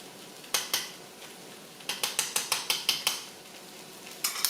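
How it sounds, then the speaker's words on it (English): A utensil clinks and scrapes against a pot while bok choy soup with garlic is stirred, a run of about ten sharp, evenly spaced metallic taps plus a few scattered clicks, close and fairly quiet with no talking. "And then put it in the pot stir."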